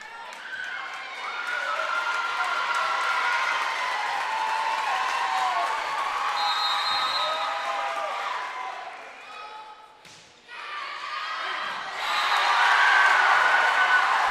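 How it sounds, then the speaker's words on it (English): Crowd at a high school volleyball district championship, Keystone against Kane, fills a gym with sustained loud cheering and shouting, dipping briefly before rising again near the end while a commentator talks over it. "You hear the crowd immediately jumping in on that one."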